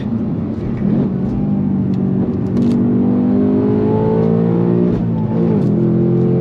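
A 2024 Ford Mustang GT V8 accelerates hard in third gear, its engine note loud and close, rising steadily in pitch as revs climb through the whole stretch without a break.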